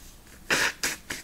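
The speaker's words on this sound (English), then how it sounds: "I'm sorry I'm blowing my nose" Three short, breathy nasal blasts in quick succession, the first longest, close and fairly loud with quiet pauses between.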